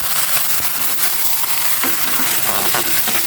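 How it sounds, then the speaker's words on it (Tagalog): Chicken sautéing in a hot pan gives a loud, continuous sizzle close by, with scattered crackles and stirring scrapes throughout and no talk. "Lagay ko na po itong chicken na magisa"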